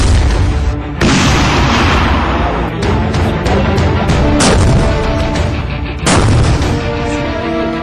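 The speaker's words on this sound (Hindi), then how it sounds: "अभी आपने जो मिसाइल फायर देखा वो T-90 टैंक से था" A T-90 Bhishma tank fires a missile, producing loud, heavy booming blasts and rumbling, with several sharp bursts over a sustained roar.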